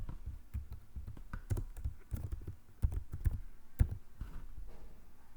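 Someone types on a computer keyboard, giving a faint, uneven run of soft clicks and taps with short pauses between bursts.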